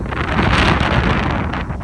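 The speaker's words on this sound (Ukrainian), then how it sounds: "Вітер, звісно, капець, я не знаю, чи щось чути." Heavy wind buffets the microphone in a loud, roaring rumble that never lets up.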